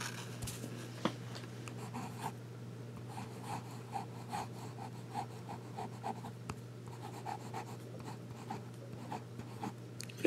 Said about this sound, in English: do just a little bit of writing to show you how these pens write